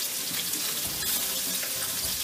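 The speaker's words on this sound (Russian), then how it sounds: "А Мясо мое жарится" Pork frying in a pan beside potatoes on the stove, a steady soft hiss and crackle of sizzling fat throughout, fairly quiet and with no talking.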